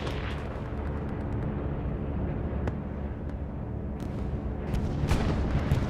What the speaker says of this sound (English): Bombing run has been called in over to the back.